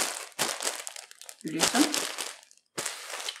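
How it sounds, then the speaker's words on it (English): Plastic bags crinkle and rustle in short bursts as skeins of yarn are packed into them, heard close up with a person talking over the handling. "I'm just going to pack these one up in plastic bags again"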